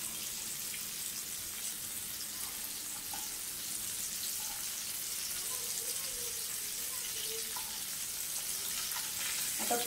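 Drumstick pods fry in a pan over a low flame with a soft, steady sizzle and an occasional faint stir, quiet and continuous throughout.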